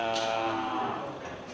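Beef cattle, super-grade Simmental feeder bulls at a livestock trader's pen, low mooing that swells and fades over a short stretch, with a faint voice in the background.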